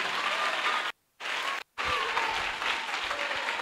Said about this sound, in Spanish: Dale ese aplauso fuerte al Rey de Reyes.